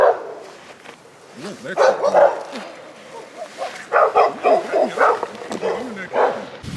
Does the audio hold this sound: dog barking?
yes